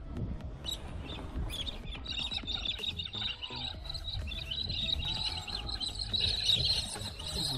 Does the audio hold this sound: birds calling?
yes